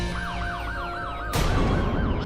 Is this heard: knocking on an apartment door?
no